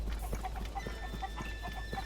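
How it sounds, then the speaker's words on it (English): Chickens cluck in Zelda: Tears of the Kingdom, short repeated clucks spaced about every quarter second over a steady low game ambience with a faint tonal hum. "Oh, the chickens are going for the cave, where there are more chickens."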